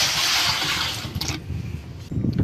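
A bucket of water tipped into a concrete mixer drum while cleaning it out on a building site, a loud gushing pour for about a second before it drops to quieter sloshing and clatter inside the drum.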